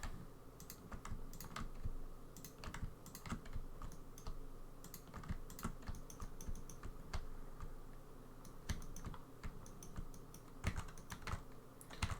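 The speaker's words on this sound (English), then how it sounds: "my mic's right next to my keyboard, but I don't know how much it's picking up" Steady typing on a computer keyboard with a microphone sitting right beside it, close and continuous irregular key clicks over a low background hum, no talking.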